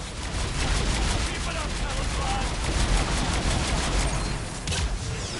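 Dense rapid gunfire from a Mass Effect space battle rattles on continuously, loud and chaotic, with game voices talking over it.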